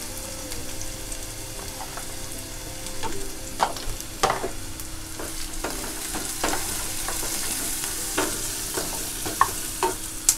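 Chopped onion sautéing in oil in a pan, a steady close sizzle with frequent sharp spatula scrapes and taps at an uneven rhythm throughout, no voices.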